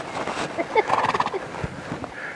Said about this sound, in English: I got horses right here